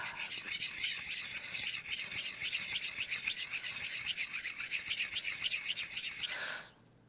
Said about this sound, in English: We're gonna need to rub these spoons together